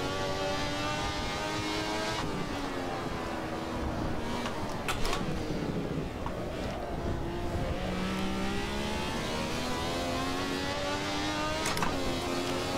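A Ferrari 312T race car in Assetto Corsa at Imola drones steadily at high revs, its engine tone rising and falling through gear changes with brief shift breaks, loud and continuous throughout.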